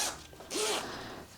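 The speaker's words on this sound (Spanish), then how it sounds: "nosotros queremos abrir la cremallera así" A zipper on a Christmas cushion cover is pulled open in one short, rasping run, preceded by faint fabric handling and a brief squeak, close and quiet with no talking.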